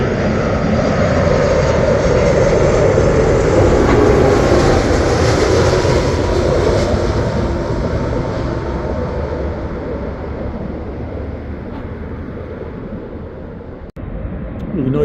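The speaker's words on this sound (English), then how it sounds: "Registration CHJKC, Airbus A330," A large Air Canada Airbus A330 jet landing at Heathrow Airport gives a loud, broad engine roar and rumble that slowly fades as it passes, with a brief knock near the end.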